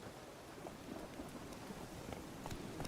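Faint, steady rain hiss with scattered drips and a low distant rumble of thunder underneath in a Witcher video game, quiet and continuous.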